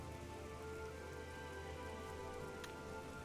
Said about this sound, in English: See this rainy weather? Whenever he's around, it is always this rainy weather.